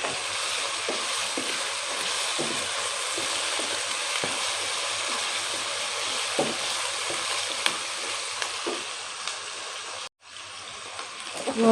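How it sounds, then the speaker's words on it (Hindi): Meat sizzles and fries steadily in a pan for Chinese chicken biryani, with a continuous loud hiss, occasional stirring clinks, and a brief pause near the end before the sizzle resumes. "अच्छा सा भून लें इसको।"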